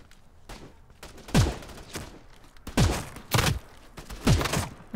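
Sniper rifle shots in the mobile shooter game Battle Prime, four loud booming reports spaced roughly a second apart, each with a sharp attack and a falling low-end tail, heard alone without talk.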